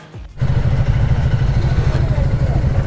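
A Royal Enfield motorcycle at Leh, heading for Khardung La, idling just after a cold start, a loud, close, steady thumping single-cylinder beat following a brief catch as the engine fires.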